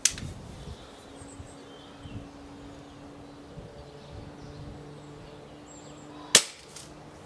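TX200 air rifle fitted with a 22mm piston conversion fires a single sharp, close crack near the end of an otherwise quiet stretch with faint background hum.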